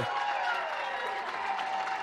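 Applause and light crowd noise from a live audience for Dalvin Cook, a steady wash of clapping that holds at an even level for the whole stretch with no voices over it.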